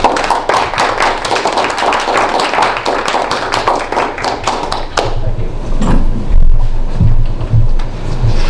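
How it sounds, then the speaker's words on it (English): Applause at a meeting: rapid, dense clapping from a small audience for about five seconds, then it stops abruptly and low rumbling handling noise and room sounds follow. "Let's give an applause to Dale."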